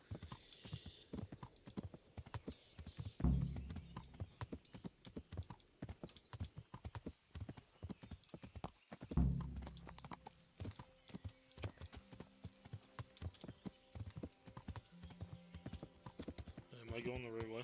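Horse hooves clip-clopping at a steady gallop in Kingdom Come: Deliverance, continuous and close, with a couple of heavier thuds and voices speaking over the riding.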